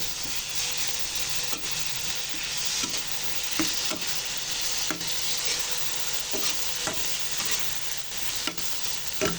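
Hand-crushed tomatoes cooking in a pan for sinigang na tilapia, giving a constant soft sizzle broken by regular light stirring clicks and scrapes. No one speaks.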